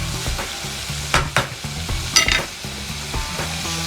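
Chicken hearts and livers frying with spices in a pan, a steady close sizzle broken by a few sharper scraping stirs of the spoon, no voices.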